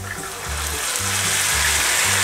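White table wine pours steadily into a pan, with a continuous splashing rush over a low hum.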